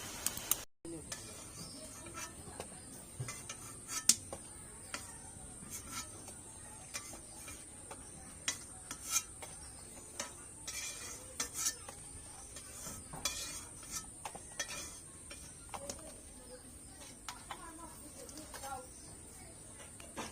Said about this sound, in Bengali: ফুচকাগুলো ভাজা হয়ে গেছে, এবার আমরা ফুচকাগুলো তুলে নেব।